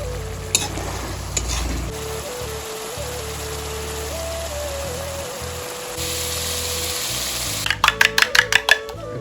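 Chicken sizzles and fries in a pan as it is stirred, a steady hiss with low cooking noise beneath, ending in a quick series of metallic spoon scrapes and taps against the pan.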